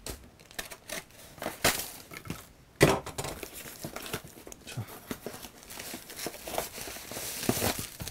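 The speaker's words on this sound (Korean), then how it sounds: "뜯어볼게요" Packaging tearing open on a protective case for a Nintendo console, heard as close, busy crinkling and ripping with one sharp tear near the three-second mark and steady rustling after it, no voices.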